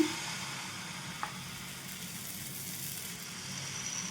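Wheat flour and jaggery batter sizzles steadily on a hot pan, a continuous soft frying hiss with one small tap near the start, no talking.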